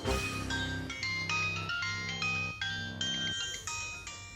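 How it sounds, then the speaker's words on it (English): A cheerful melodic phone ringtone plays alone, a sequence of bright electronic notes in a bouncing repeated pattern, clear and close for several seconds. "It's a good ringtone."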